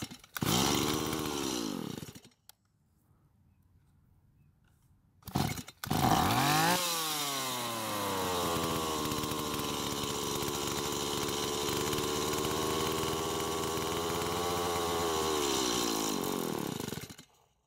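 A Stihl MS170 chainsaw running poorly after repair with new fuel line, air filter and fuel filter: the engine revs high, cuts out abruptly, restarts with a surge, then holds a loud, steady, slightly wavering high rev until it stops.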